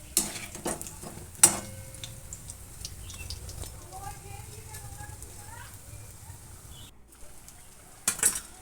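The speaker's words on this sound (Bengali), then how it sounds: "এবার একটা পাত্রে আমি বড়াগুলো তুলে নেব" Fried lentil fritters are lifted out of hot oil, which keeps up a steady, soft sizzle throughout. A few sharp clinks of a utensil against the pan stand out near the start and again at the end.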